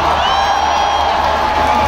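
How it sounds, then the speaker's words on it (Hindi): Large concert audience at Gulberg Green, Islamabad, cheering and applauding, a loud, dense wall of clapping, whoops and shouting voices sustained throughout. "जिन लोगों ने ये अरेंज किया है उन लोगों के लिए एक दफा तालियां होनी चाहिए"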